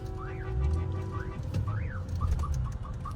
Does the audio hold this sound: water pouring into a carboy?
no